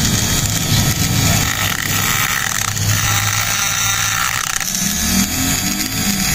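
Metal being cut by hand with a hacksaw while fitting a radiator cap cover on a Euro Griffin 180i motorcycle: steady, rough rasping strokes, close and fairly loud, continuing for several seconds without speech.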